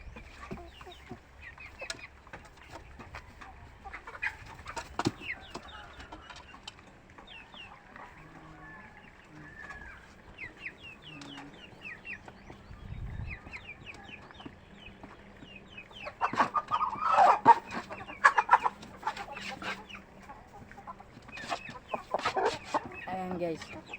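Rhode Island Red chickens, about four to five months old, cluck and murmur steadily at close range, with occasional louder squawks and a distant rooster-like call amid farmyard bustle.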